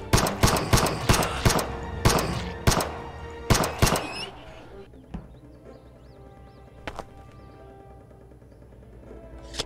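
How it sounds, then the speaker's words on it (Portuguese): Gunfire in the Animallica video game: about ten sharp, loud shots in a quick irregular burst over the first four seconds, then a quieter stretch with a few faint knocks. "Eu não devia ter dado um tiro no cachorro."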